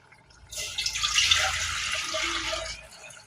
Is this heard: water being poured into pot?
yes